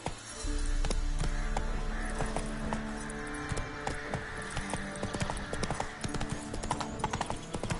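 Roach, the horse in The Witcher video game, gallops in a steady, close rhythm of hoofbeats over a constant background hum.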